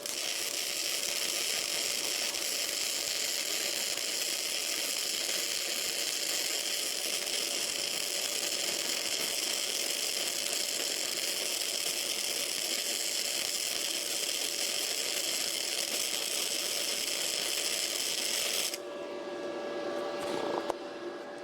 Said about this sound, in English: Again, this is 1/8 check plate. We are welding on the backside.